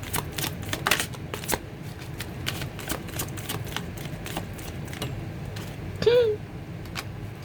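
Tarot chakra cards shuffled by hand for a reading, a run of soft, rapid riffling flicks, close and fairly quiet, ending with a brief brighter scrape.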